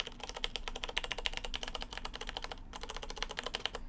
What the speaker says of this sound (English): First is the Cherry MX Brown tactile key switches